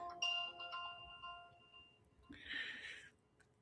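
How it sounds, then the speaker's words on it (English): A mobile phone ringtone goes off faintly in a quiet room: a sustained electronic melody of bright tones, then a brief buzzy, ringing burst near the end. "sorry, the phone going off."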